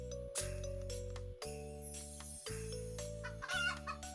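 Game chickens in Terracards cluck and briefly crow, faint bird calls sitting over a repeating electronic music loop.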